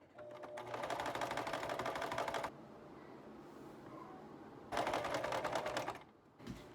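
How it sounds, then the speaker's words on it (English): Sewing machine stitching a home sewing project, two bursts of rapid mechanical whirring separated by a quieter pause, close and fairly loud in a room. "I need to work on a sewing project"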